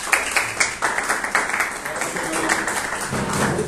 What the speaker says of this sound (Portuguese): Obrigado pelos aplausos antes